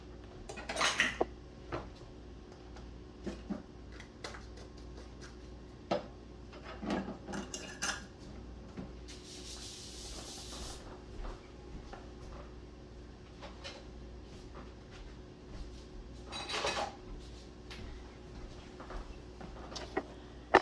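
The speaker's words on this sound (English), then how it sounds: "Stir that up real good." A spoon stirs spices including allspice and cloves into homemade habanero sauce, giving scattered clinks and scrapes against the container at close range, with a few louder taps over a quiet background.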